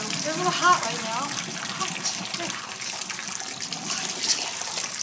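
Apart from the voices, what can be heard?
draining boiled potatoes in the sink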